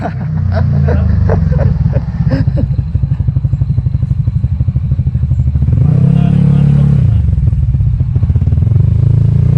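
A Yamaha NMAX scooter engine running close up with a fast rhythmic putter, revving higher midway then settling, loud and steady throughout.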